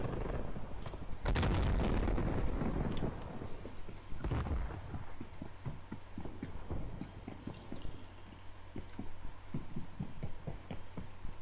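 A grenade blows up in a shooter video game: two heavy booming blasts with rumbling tails, then a run of rapid sharp pops and clatter in the background.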